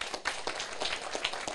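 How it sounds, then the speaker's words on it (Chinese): A small lecture-class audience claps in a quick, fairly faint burst of separate hand claps with an uneven rhythm, recorded in a room. "下咱大家拍手一下好无？"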